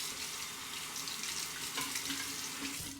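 Tap water runs steadily into a coconut shaving bowl, rinsing it out with a soft, continuous splashing hiss, close and fairly quiet.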